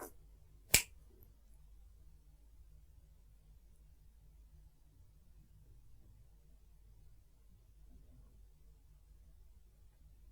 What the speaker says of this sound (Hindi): ये जो चुटकी बजाऊंगा इसकी आवाज को सुनना